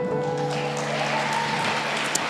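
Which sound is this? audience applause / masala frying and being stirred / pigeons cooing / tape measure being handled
audience applause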